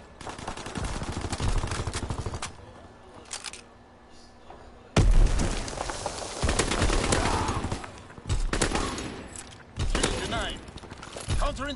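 Rapid bursts of flak and automatic gunfire from a video game battle, loud and repeated in clusters with brief pauses, while a player's voice talks over the shooting.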